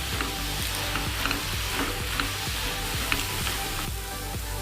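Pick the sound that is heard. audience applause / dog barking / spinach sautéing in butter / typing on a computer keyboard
spinach sautéing in butter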